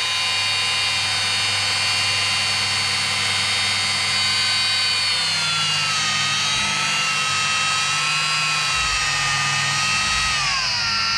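A rotary polisher working CarPro ClearCut compound into car paint, a loud, continuous high-pitched whine whose pitch dips and shifts as the speed changes, close and steady throughout.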